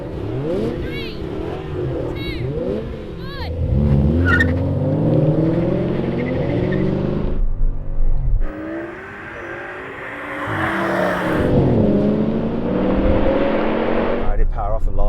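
A V10 BMW M5, a Mercedes AMG E55 and an Audi RS6 launch in a drag race, their engines revving loudly and climbing in pitch through the gears, with a short drop between pulls and a roaring continuous drone.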